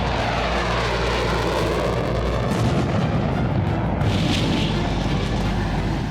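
Israeli Air Force jets on steep-angle practice dive bombing runs against a tiny target, a loud continuous engine roar with heavy booming blasts of bombs exploding, dense and close.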